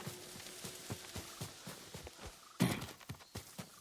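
Horse hooves clip-clop at a steady walking pace in Ghost of Tsushima, a series of soft, evenly spaced thuds with one sharper, louder hit partway through and no speech.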